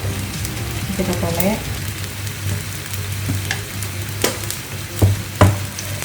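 Spinach with pepper fries in a pan and is stirred, a steady sizzle with scraping and clinks of the utensil, a low hum beneath and a couple of sharper knocks near the end.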